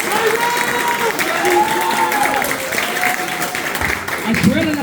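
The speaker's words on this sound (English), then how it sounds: "everyone, give him his own round of applause" An audience applauds steadily at an Eagle Scout Court of Honor, a dense continuous wash of clapping with some cheering, while a voice speaks over it.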